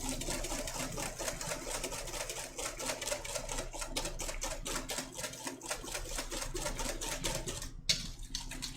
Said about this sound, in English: we're going to continue whisking for about 2 minutes